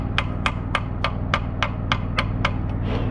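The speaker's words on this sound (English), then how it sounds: "I'm stress relieving it by peening it" Hammer peening on a weld to relieve stress, about ten sharp metallic blows struck in a steady, even rhythm at close range over a low background hum, with no talking.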